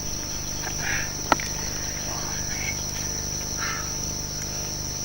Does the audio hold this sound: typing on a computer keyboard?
no